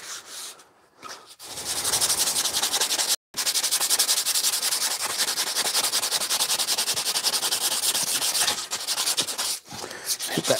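Continuous abrasive rasping of sandpaper worked over a wooden axe handle to strip off its top layer of dirt and grime, loud and close, running steadily for several seconds with only brief pauses.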